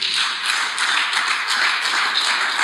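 A church congregation applauds in steady, dense clapping that fills the whole stretch at an even level, close and loud, with no talk over it.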